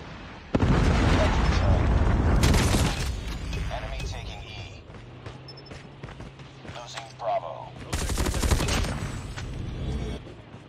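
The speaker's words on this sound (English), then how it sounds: "Predator missile inbound." A Predator missile strike and gunfire in a Call of Duty Ground War match boom as heavy explosions at the start and again near the end. Bursts of rifle fire and crackling battle noise fill the gaps, with a voice talking over the action.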